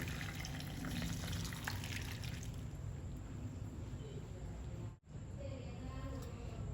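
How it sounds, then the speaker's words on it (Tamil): Boiled pasta is drained through a strainer, with close, steady pouring and splashing water that fades to a softer trickle. "இப்போ நம்ம இந்த பாஸ்தா வடிகட்டி எடுத்துக்கலாங்க."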